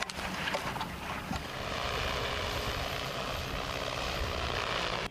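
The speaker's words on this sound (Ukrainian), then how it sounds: "Рейс за рейсом дрон тягає важкі протитанкові міни та скидує в необхідні квадрати." A military drone flies at night carrying heavy anti-tank mines, a faint, steady engine hum that drones on evenly in the distance with no speech.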